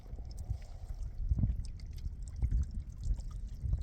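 Water churns and gurgles through the tubing of a DIY geothermal heating and cooling system with air still trapped in the lines, a steady close-up sloshing with irregular low bubbling surges.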